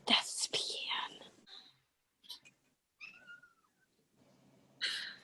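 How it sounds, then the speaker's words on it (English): A pet cat meows loudly in a few drawn-out cries spaced through a quiet room, with hushed whispering near the start. "Just loud meowing."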